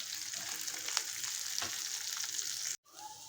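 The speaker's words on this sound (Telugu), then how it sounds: "సిమ్లో పెట్టుకొని కొంచెం రోస్ట్ చేసేసుకున్నాం. అలాగే ఆనియన్స్ కూడా వేసేసుకోవాలి." Spices and onions roast in hot oil in a kadai for senaga pappu charu, giving a steady, close hiss and crackle of frying that stops abruptly near the end.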